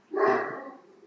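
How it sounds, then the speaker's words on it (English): A single loud bark from a pet dog indoors, close and sharp, trailing off into a short tail. "sorry about my dogs barking."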